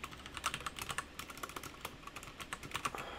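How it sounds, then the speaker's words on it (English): Rapid typing on a computer keyboard, a steady patter of crisp key clicks at an irregular fast rhythm, close and fairly quiet with no voices. "I'm great at typing."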